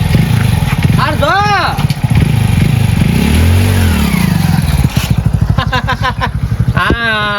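A motorbike engine revs and clatters nearby, rising and falling in bursts over a steady idle, while people talk loudly over it throughout.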